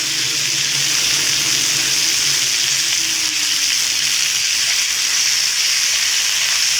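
Beef chunks for Filipino mechado sear in a hot pan, giving a loud, steady sizzle and hiss that carries on unbroken, close up, with no voices.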